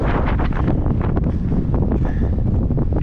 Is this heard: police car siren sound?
no